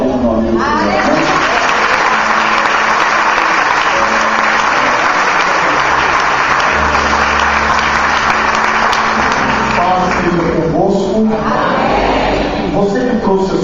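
A church congregation welcomes its pastor with loud, continuous applause, blended with music and voices, in a steady wash that shifts and briefly thins toward the end.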